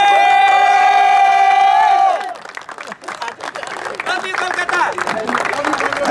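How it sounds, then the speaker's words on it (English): At a corporate cricket tournament's prize distribution, a crowd cheers and claps loudly with shouts, following a sustained tonal musical note, while voices mix into the noise. "Then we have the applause going for these guys."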